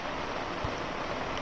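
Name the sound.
rain falling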